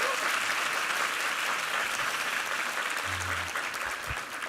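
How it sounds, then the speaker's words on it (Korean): Steady applause from a church congregation at a Christmas service, a dense, even patter of many hands heard from a distance that holds throughout and eases slightly toward the end. "한번 힘찬 격려의 박수 부탁합니다"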